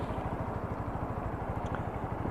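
Lexmoto Assault motorcycle idling close by, a steady low rhythmic engine putter that holds even throughout, with no speech.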